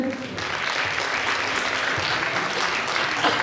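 An audience at a KVN comedy contest final breaks into steady, loud applause, with dense clapping filling the room without a break.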